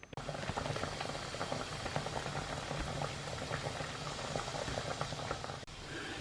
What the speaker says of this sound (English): I've put the noodles on to boil